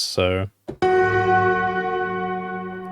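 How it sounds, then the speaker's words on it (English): A bell chime from a digital keyboard instrument is struck once and rings out with a long, bright, sustained tone after a brief spoken word. "you can hear a chime of a bell in there when I give it enough velocity"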